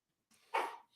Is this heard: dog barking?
yes